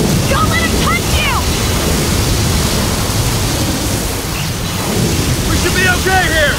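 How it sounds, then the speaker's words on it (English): A thunder and lightning storm rages in the video game Gears of War 4, a dense, loud roar of wind and rumbling mixed with chirping whistles from bursts of game effects. "Lightning flurry!"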